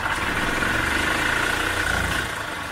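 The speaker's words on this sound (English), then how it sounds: "I think we got a running golf cart." A gas engine on an EZGo golf cart runs at a steady idle after a fuel pump replacement and carburetor cleaning, with a loud, even, continuous rumble heard close up.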